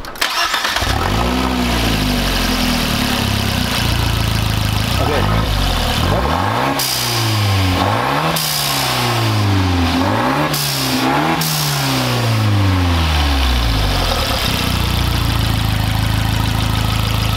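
A Fiat Abarth Spider, parked up on jacks with a newly fitted blow-off valve and diverter, starts and is revved repeatedly, the engine loud and close. It climbs and falls in several sweeping bursts while voices talk over it.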